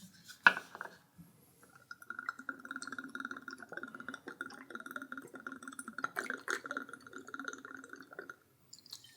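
Jameson Orange Irish whiskey pours steadily into a glass for a cocktail, a close, continuous liquid trickle lasting several seconds after a brief clink at the start.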